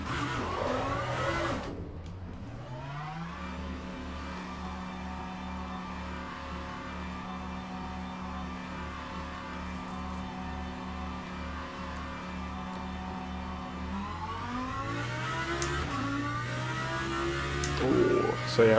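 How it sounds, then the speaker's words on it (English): A Lamborghini with a V10 engine pulls out of the pits, first a steady droning idle, then a rising rev as it accelerates and grows louder near the end. "got a nice loud scream to it, having the V10 in it"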